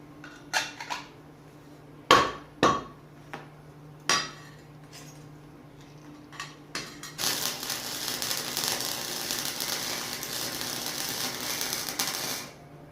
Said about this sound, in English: So I'm just going to quickly slide them and weld them together.